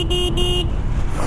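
A car horn blares in two or three quick honks at a wedding, loud and near, over the low rumble of a running vehicle.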